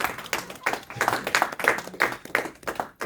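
A church congregation claps in steady rhythm, the bright hand claps landing roughly three times per second at moderate volume for a few seconds.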